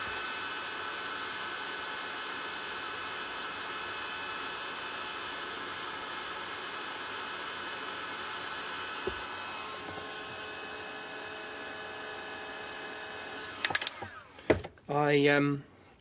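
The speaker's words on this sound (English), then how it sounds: "So this might be loud, but it's DeWalt cordless heat gun." A DeWalt cordless heat gun runs with a loud, steady, whining blower rush for about fourteen seconds. It then cuts out into a few short knocks and a brief burst of noise.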